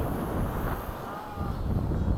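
Crosswind buffets the microphone during a P-51 flight, a rough, continuous low rumble of wind noise throughout.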